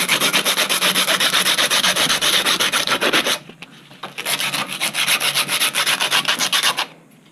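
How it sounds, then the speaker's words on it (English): Sandpaper rubbing the sharp edges of a homemade marbled concrete bonsai pot, with close, loud, rhythmic back-and-forth strokes that pause briefly midway and then resume. "a little bit of sanding."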